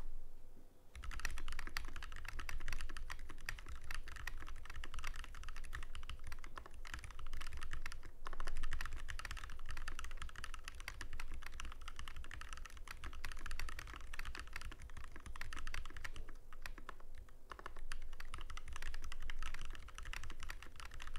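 A Tofu60 mechanical keyboard with a very muted sound, typed on continuously and closely for the whole stretch in a fast, steady patter of keystrokes with no voices.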